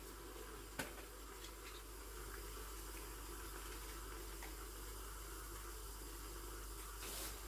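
Boiling water pours in a steady, hissing stream into a cooking pot for several seconds, close and continuous, with a brief clink near the start and no talking.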